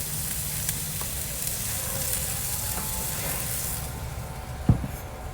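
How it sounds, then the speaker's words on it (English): Steady broadband sizzling hiss of a pork chop searing on a hot grill, constant and close, with a brief clunk near the end. "You hear that sizzle right away."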